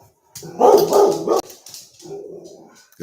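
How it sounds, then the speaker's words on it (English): A pit bull barks close by in a strong run of loud, rapid barks, then drops to lower, softer vocalizing and whining that trails off near the end. "You're going to hear a dog barking in the background because I am babysitting my daughter's pit bull"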